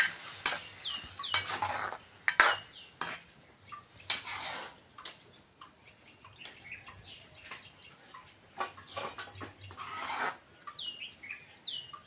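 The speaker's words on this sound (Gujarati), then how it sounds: "એમાં દહીં નાખીશું દહીં નાખી મિક્સ કરી લઈએ" Yogurt being stirred into roasted okra curry in a pan, a spoon scraping and clinking against the metal in irregular bursts over a soft sizzle, close up with no speech.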